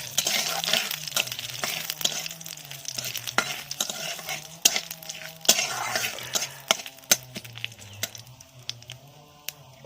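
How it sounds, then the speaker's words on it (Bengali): Dry red chillies, one cut and one whole, fry in a pan with spices as they are stirred. A continuous sizzle runs under frequent sharp metallic scrapes and clinks of the utensil, close up, with no talking. "এইবারে ভালো করে নাড়াচাড়া করে নিচ্ছি"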